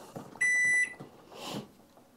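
A microwave oven plugged into a Bluetti AC200p power station gives one loud, steady electronic beep lasting about half a second, followed by a softer whooshing burst with faint room noise around it.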